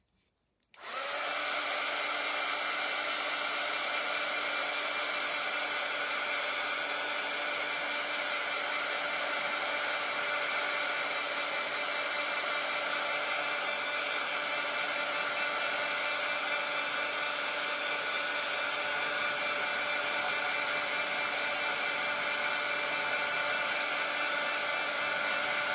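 A handheld hair dryer blowing over a small art craft piece, switching on abruptly and then running as a steady, loud whirring hum with a constant pitch for the rest of the stretch, nobody talking.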